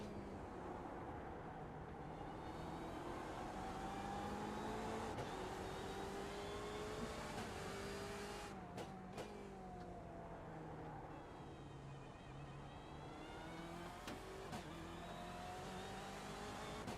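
Race car engines roar continuously in an iRacing endurance event at night at Catalunya, with rising and falling revs and gear shifts as cars close on slower traffic, loud and steady throughout with no talk.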